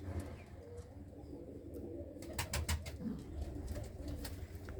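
Pigeons coo softly in a loft, including a large cock bird and a hen sitting on eggs in a box, with low repeated coos over faint background rustle and a few brief chirps.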